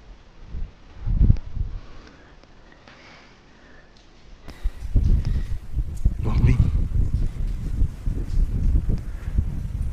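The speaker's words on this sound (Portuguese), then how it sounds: "A porta abriu. Olha o vento." Wind gusting through an open door at a farm. A low, rumbling buffet of air rises and falls, growing stronger and steadier in the second half, with no talking.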